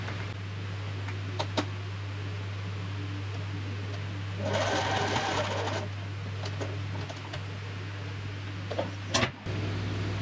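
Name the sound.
sewing machine stitching fabric for blouse hangings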